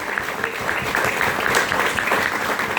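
Family members clapping together at a grandmother's 90th birthday celebration, a steady dense patter of applause sustained throughout at moderate loudness, no voices standing out.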